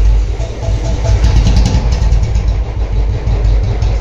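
A Royal Enfield Bullet motorcycle engine runs loud and close after starting, a steady low thumping idle with slight rises in revs throughout.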